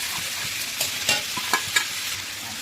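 Carrot and other vegetables stir-fried for vegetable chowmein with cauliflower, giving a steady crackling sizzle with a few sharper scraping clacks of a utensil against the pan, close and alone without voices.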